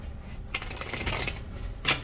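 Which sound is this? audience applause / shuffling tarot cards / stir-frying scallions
shuffling tarot cards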